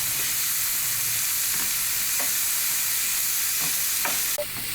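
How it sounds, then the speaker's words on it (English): Onions sauté in a hot pan with ginger chili paste for a veg Mughlai paratha filling, a dense, even sizzle close up with a few soft taps of stirring near the end. "add onions and saute the onions for about 2 minutes"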